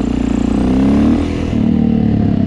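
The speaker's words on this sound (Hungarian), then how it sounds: "ezért húzza neki a gázt." A Suzuki DRZ400E dirt bike engine revs hard and holds on the throttle to lift the front wheel in a power wheelie, a loud close rumble that dips briefly and then rises again.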